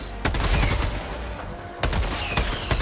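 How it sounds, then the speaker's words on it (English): Machine gun fire in the video game Helldivers 2, loud rapid bursts with a short pause between two volleys, up close against a noisy battle backdrop. "We got a machine gun, Rick."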